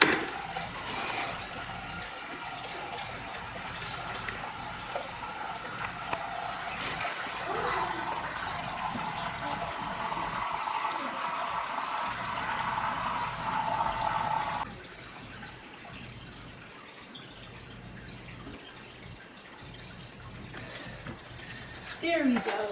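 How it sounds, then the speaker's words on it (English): Water slowly tipped into a small fish aquarium during a minor water change, a soft continuous splashing pour that runs for several seconds and then stops, with a person talking over it. "I'm gonna go ahead and add in the water"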